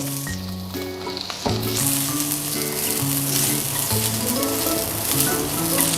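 Onion and spring onion stems frying in a hot pan, a loud steady sizzle that jumps up as they hit the oil, continuing under melodic background music.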